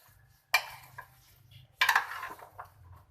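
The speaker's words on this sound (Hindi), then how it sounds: "तमाम चीज़ें डालने के बाद आप इसको पहले थोड़ा सा मिक्स कर लें।" A spoon scrapes and clinks against a bowl while fruit chaat ingredients are mixed. Two sharp knocks are followed by softer scraping, and there is a faint low hum but no talk.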